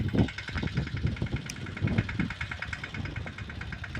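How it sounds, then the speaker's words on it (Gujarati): A mini tractor engine runs at a steady, moderate idle-like throb that stays fairly loud and close throughout, with a low knocking pulse and a faint background voice. "હવે ધ્રુવભાઈ આવે ધીરે ધીરે ટ્રેક્ટર લઈને"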